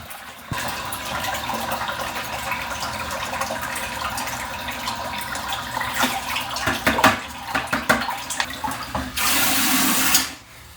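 Tap water runs steadily into a bucket for a rinseless car interior wash, a continuous splashing pour that shifts to a brighter, harsher gush near the end before cutting off.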